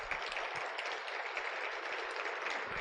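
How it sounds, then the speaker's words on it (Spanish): An audience applauds a speaker about to present a physics lecture, a steady, even clapping at moderate distance that fills the whole moment without pauses. "Por favor, con un aplauso recibamos al doctor."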